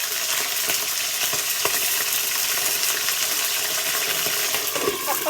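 Hot oil sizzles and crackles steadily while frying milkfish, close up, with occasional small pops and clinks throughout.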